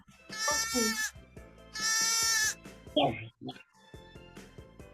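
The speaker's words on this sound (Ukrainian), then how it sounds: "вівця мама" Two long, loud, wavering bleats of a sheep a moment apart, followed by a few shorter animal and voice sounds.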